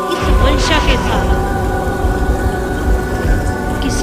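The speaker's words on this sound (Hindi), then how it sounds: "तेज आंधी, तेज तूफान और वर्षा की। और इतनी तेज वर्षा की" Heavy rain pours steadily in a storm sound effect, with a rumble of thunder rolling through near the start and a dense, loud wash of downpour continuing underneath throughout.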